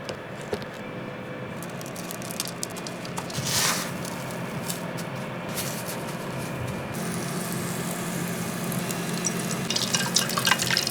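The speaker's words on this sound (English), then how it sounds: "So I'm frying this up in a canola oil right now." Steady sizzling and crackling of corn dogs frying in hot canola oil, with a continuous hiss and scattered pops, close by and fairly loud throughout.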